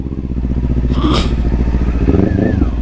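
A Kawasaki 400cc big bike's engine drones close and steady in first gear while riding at night, with a low pulsing rumble and a brief scraping clatter partway through.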